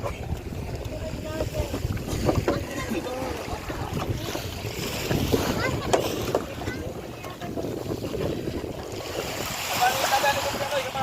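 Motorized outrigger boat carrying passengers across the sea toward Togoron, Monreal, Masbate, a steady engine drone with wind and water rushing past the hull, continuous and close, with occasional voices talking over it.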